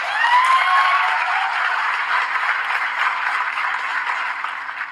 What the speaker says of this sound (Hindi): जोरदार तालियां दो रश्मि को यार